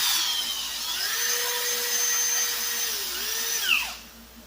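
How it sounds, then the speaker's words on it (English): A power drill with a 1/8 inch bit in a 1/8 inch drill guide whines at a steady high pitch, spinning up and bogging slightly as it bites, then winds down and stops. "We got an 1/8" drill, 1/8" drill guide in here."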